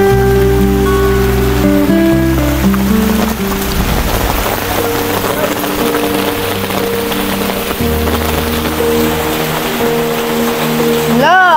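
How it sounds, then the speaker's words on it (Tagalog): Heavy downpour hissing steadily on surfaces during a rural outing, with a strong, dense wash of rain filling the scene while a tonal music bed plays underneath and voices are faintly present. "At ang lakas po ng ulan, Diyos ko."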